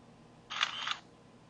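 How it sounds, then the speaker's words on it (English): A T-Mobile Shadow phone from 2009 plays its camera shutter sound, a single quiet, short click-like snap in an otherwise silent room. "the shutter button takes the picture"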